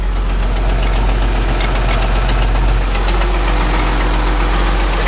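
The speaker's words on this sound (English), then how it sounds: "this tractor is loud" An old 4840 tractor, warmed up, idles loudly with a steady low diesel rumble and a slight knock, continuous and close throughout.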